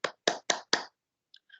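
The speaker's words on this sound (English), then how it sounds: "Let's give year five a huge round of applause." Four crisp, close claps ring out in an even rhythm at a school assembly honouring year five, followed by a couple of faint taps, with no talk.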